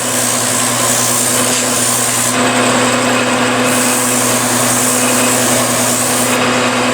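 Loud, steady lathe motor whir with a gritty rasp of sandpaper against a spinning wooden piece, continuous and close with no pauses.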